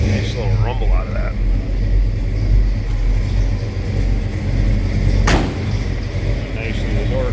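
A 1948 Chevrolet pickup street rod with automatic transmission gives off a low, steady engine rumble up close. Someone talks briefly over it, and a sharp thump cuts through partway.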